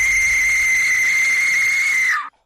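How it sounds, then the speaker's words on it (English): An Aztec death whistle sounds one shrill, sustained, scream-like tone held steady for about two seconds before cutting off abruptly, loud and alone. "If you've never heard an Aztec Death Whistle, I'm going to play a sample of one for you right now."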